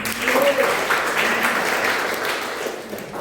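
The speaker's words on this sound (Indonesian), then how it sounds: "Mana tepuk tangannya, Bapak?" A church congregation at a Sunday worship service claps in steady, dense applause that fills the room for the whole stretch, with voices mixed in beneath it.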